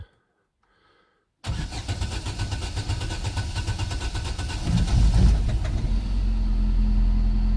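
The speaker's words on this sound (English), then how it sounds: "Whoa, and it started, and the oil light's gone out. And it sounds really sweet." A replacement 1.6 engine in an Astra H cold-starts after a second of near silence: a sudden loud crank catches into a steady, rumbling idle that rises slightly in pitch and level and holds close and alone.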